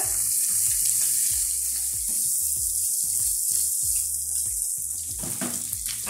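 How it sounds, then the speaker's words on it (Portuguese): Chopped Sadia sausage sautés in a pan for a farofa, giving a continuous loud frying hiss that holds steady throughout with no talk. "Vou refogar muito bem aqui essa linguiça."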